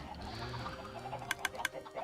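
Minecraft chickens clucking, a few short sharp clucks near the end over a low background drone.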